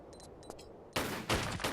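Gunfire in a custom Tomb Raider level, a quick burst of loud game shots after a moment of faint clicks and beeps.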